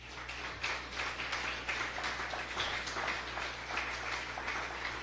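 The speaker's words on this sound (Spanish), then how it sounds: "Dele un aplauso al Señor, hermano." A church congregation claps together in a quiet hall, a soft, continuous patter of many hands with a faintly rhythmic pulse, set over a steady low electrical hum.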